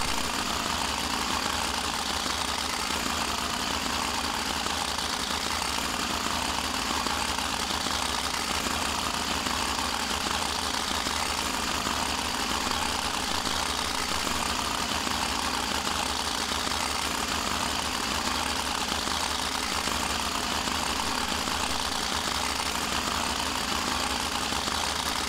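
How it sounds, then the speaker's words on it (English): A steady tractor engine idles continuously in the video game Farming Simulator 2013, a dense rumbling drone that never changes pace or volume. "Sounds like it needs help on the engine, that's for sure."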